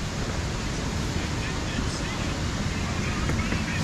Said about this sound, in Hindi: छोटा सा वाटरफॉल है पर बहुत ही अच्छा लग रहा है